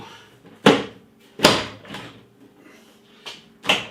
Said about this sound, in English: Shut the door down.